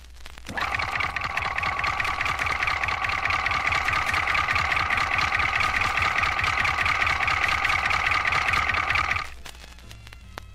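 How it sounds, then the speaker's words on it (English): A diesel locomotive's engine idles in a steady, continuous drone with a throbbing low rumble and strong mid-range hum, running unbroken for about nine seconds before cutting off abruptly into quiet. "the sound you have just heard was recorded on the idling engine of a diesel locomotive"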